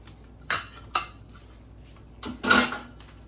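Cake layers being removed from a metal baking pan, giving a few close clanks and scrapes: two short knocks early on, then a longer, louder rattling scrape near the end, with no speech.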